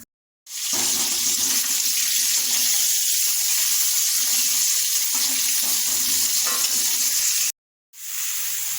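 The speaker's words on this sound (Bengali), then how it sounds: "তো মাছগুলো আমার নুন হলুদ মাখানো হয়ে গেছে, এবার কড়াতে ভেজে নেব সব।" Tangra fish coated in salt and turmeric fry in a wok, giving a steady, loud, close sizzle that runs almost unbroken, with a brief silent gap near the end.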